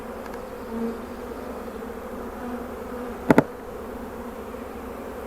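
Honeybees buzzing around an open beehive during a hive inspection, a continuous droning hum from many bees with a brief pair of sharp knocks partway through.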